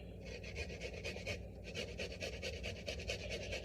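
Fresh ginger rasped against a grater in a home kitchen, a quick run of close, rhythmic scraping strokes with a short pause midway and no talking.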